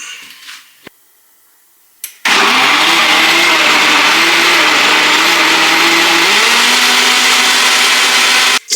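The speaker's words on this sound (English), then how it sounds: "Give this a quick blend in the NutriBullet." A NutriBullet blender whirs through a vegan plantain pudding mixture with melted coconut oil, starting after a few quiet clicks and taps, then a loud, steady motor whine that shifts pitch slightly as the contents churn, cutting off at the end.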